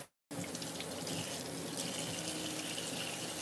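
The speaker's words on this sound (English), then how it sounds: "I like to pour a little bit of water off so it won't be overflowing on the stove." Water poured off a pot of spaghetti on a stove, a steady, close splashing stream running continuously after a brief silent start.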